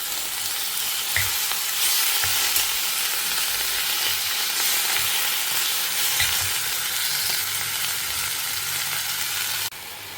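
Lentils and vallarai leaves stir-fry in a hot pan, giving a steady close sizzle and crackle with occasional soft scrapes of stirring, no voices.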